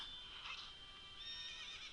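A horse whinnies in the video game Zelda: Ocarina of Time, a bright, wavering neigh heard twice in quick succession with no talking.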